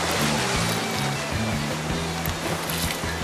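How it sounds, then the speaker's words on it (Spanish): Rushing, swollen water of the Río Negro in Colombia after continuous rains, a steady broadband roar close by with no voices over it. "Estamos en el caudaloso Río Negro de Colombia."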